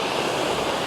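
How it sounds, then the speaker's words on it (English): Waterfall at a tourist spot near Yogyakarta in front of a mountain, a loud, steady broadband roar of rushing water, close and continuous, with no talking. "But we have the waterfall and behind the mountain."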